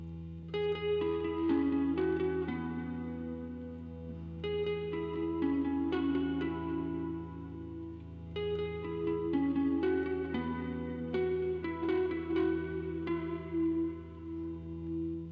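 Electric guitar run through effects plays repeated bright plucked phrases over a sustained low drone, with a spacious, echoing tone throughout.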